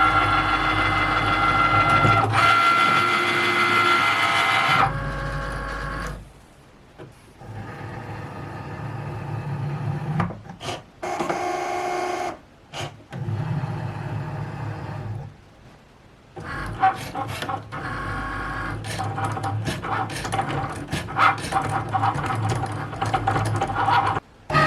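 Two Cricut cutting machines, a Cricut Maker and a Cricut Maker 3, run in turn, with mechanical whirring and ratcheting carriage movements in bursts separated by short pauses, fairly close and alone without talk.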